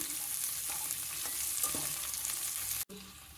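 Peas, carrots, bay leaf, black pepper, cinnamon and cloves sizzle in hot oil in a pan for spinach pulao, a steady close frying hiss with soft scrapes of stirring and a brief dropout near the end.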